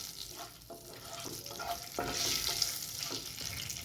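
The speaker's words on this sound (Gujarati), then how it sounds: "મસાલા ઉમેરીને બધું જ આપણે સાંતળી લેવાનું છે।" Whole spices, a cinnamon stick, cloves and a bay leaf, sizzle in hot oil for dum aloo, a faint, steady crackling fry with soft scraping stirs and light clatter at close range.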